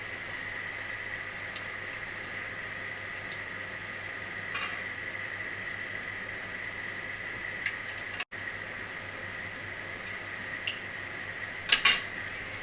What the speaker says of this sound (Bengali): এই দেখো মালপোয়া ভাজছি।